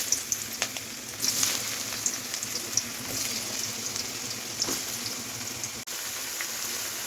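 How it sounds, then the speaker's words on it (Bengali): Young jackfruit pieces fry in hot oil with a steady, close sizzle and crackle that runs throughout, with small pops scattered across it and no voices. "তেল গরম হয়ে গেছে, এবার এঁচোড়গুলো একটু ফ্রাই করে নেব, হালকা করে ফ্রাই করে নেব।"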